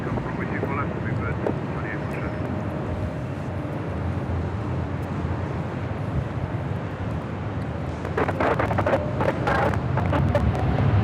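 Airliner taking off from runway 24 left at LAX, a steady broad jet roar heard from a distance with wind buffeting the microphone, growing louder and rougher near the end.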